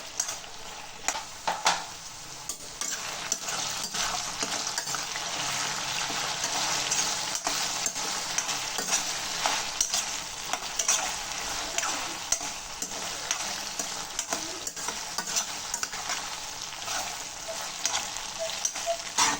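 Okra fries in a pan for vendakkai kara kulambu while being stirred continuously, a close steady sizzle broken by frequent scraping and tapping of the spoon.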